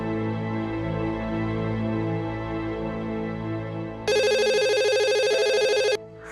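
An office telephone rings with a steady electronic trill, loud and close, bursting in over a droning music and ambience bed for about two seconds before cutting off.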